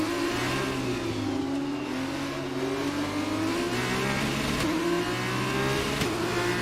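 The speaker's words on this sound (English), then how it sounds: "Better get used to this engine sound so I know when to shift." F1 car engine in the racing game F1 22 at Zandvoort, a steady high whine that climbs and drops through gear shifts, loud and continuous with no talk.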